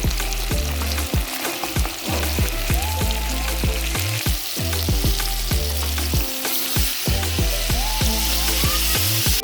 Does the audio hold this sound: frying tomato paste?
yes